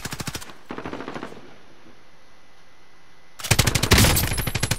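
Rapid bursts of automatic gunfire from a video game, loud and close at the start, a quieter stretch in the middle, then a heavy sustained volley near the end; no talk.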